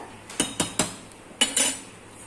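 A metal spoon stirs chicken curry for a Tamil Nadu style biryani, knocking against the pot in five or six sharp clinks: three quick ones, a short pause, then two more, with no other sound.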